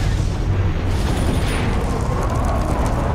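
A film stunt explosion: a broad, rumbling boom with a burst of noise that slowly decays into a low roar, fairly loud with no talk over it.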